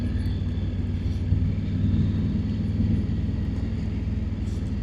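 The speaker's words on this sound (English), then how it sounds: "Then of course you get these guys on their adventure bikes riding through." Adventure motorbikes riding past on a quiet lakeside road at sunset, a steady low engine rumble that swells and eases as they go by.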